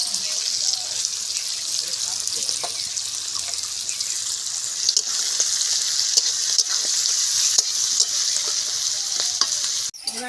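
Ghee spooned over fried rice in a hot pan sets off a loud, continuous sizzle with stirring scrapes and a few clinks, ending in a sharp knock.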